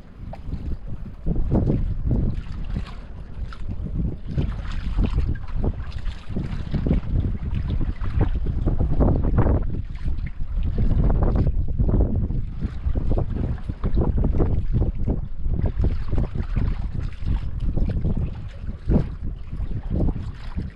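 Strong amihan northeast monsoon wind buffets the microphone on a boat at sea, a loud, continuous roar with gusting surges and rough low rumble throughout, no voices.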